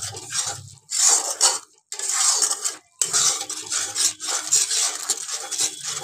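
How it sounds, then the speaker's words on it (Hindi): Masala with cumin powder is roasted and stirred in a pan for a potato and soybean curry, giving close, repeated scraping and clinking strokes with brief pauses between them. "हमारा मसाला बहुत अच्छे से भून रहा है"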